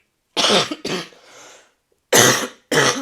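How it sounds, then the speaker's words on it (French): Several sharp, harsh coughs close to the microphone: two quick bursts, a breathy pause, then two more after a brief silence. "j'arrête pas de tousser"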